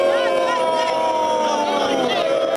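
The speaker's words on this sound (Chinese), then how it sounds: "查尔斯黄金马车现身，一片欢呼声中却也听到嘘声" A large outdoor crowd at King Charles's coronation greets his golden carriage with a steady wash of cheering and booing, a dense roar held for a few seconds beneath a voice speaking over it.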